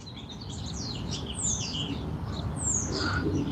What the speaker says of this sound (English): a bird started singing up in the tree